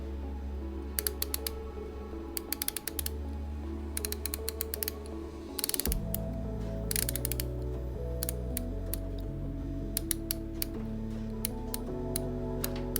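Rapid, crisp mechanical ticking of a Tutima M2 Seven Seas S watch in quick clusters of clicks, heard close up over a steady tonal background hum or music.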